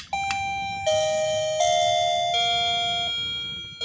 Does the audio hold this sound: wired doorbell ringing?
yes